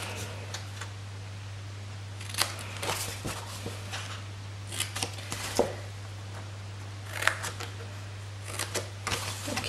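Scissors snip cardstock along score lines for a handmade gift box, a series of short crisp cuts over a steady low hum, close and fairly quiet.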